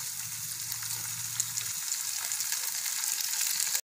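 Boiled dal and banana blossom tossed into a pan with curry leaves, sautéing with a loud, continuous close sizzle and a low rumble at first, the hiss holding steady until it cuts off abruptly.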